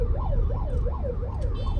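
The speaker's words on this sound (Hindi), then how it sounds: "एम्बुलेंस जा रही है" A wailing ambulance siren rises and falls in steady sweeps over a constant low traffic rumble on the road between Pune and Mumbai, fairly close and continuous.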